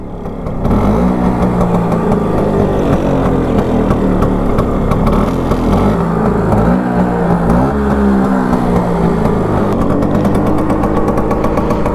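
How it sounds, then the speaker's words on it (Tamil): A Bajaj Super FE two-stroke scooter engine revs steadily up close, its buzzing exhaust note rising and falling in repeated throttle blips over a continuous loud drone, with no talk. "2 ஸ்ட்ரோக்கோட சவுண்ட் எப்படி கேட்குது பார்த்தீங்களா?"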